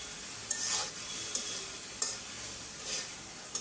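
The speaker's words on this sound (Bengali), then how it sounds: "ভাজা ভাজা করে আমি কষাই নিলাম" Boiled chickpeas and potatoes sizzle in a pan as a spatula scrapes and stirs them in a few distinct strokes, close and fairly quiet.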